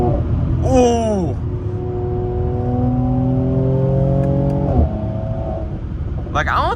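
A Mercedes C43 AMG with its stock exhaust accelerating on a highway at night, engine pitch climbing steadily through a gear and then dropping at a shift, a close continuous roar inside the car.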